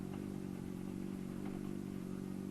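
Motorcycle engines, mostly cruisers, drone steadily with a low rumble, moderately distant, holding a constant pitch rather than clearly passing by.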